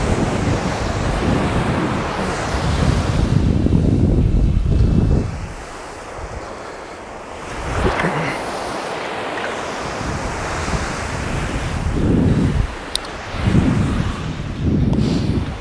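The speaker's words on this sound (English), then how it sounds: "There's a little bit of surf on sea now." Surf rolling onto an East Coast sea-fishing shore, heavy crashing waves that surge and recede in loud bursts, mixed with gusty wind buffeting the microphone, no speech.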